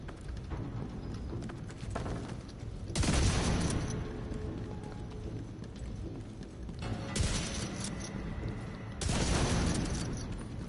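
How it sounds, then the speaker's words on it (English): Bursts of gunfire shooting boxes in The Division 2, arriving in three loud clusters around a steady game background, with long quieter stretches between the volleys. "Let me just go shoot those boxes."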